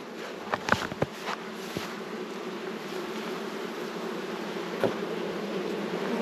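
Honeybees hum in a steady low drone at an open hive nearby, with a few faint taps and knocks early on.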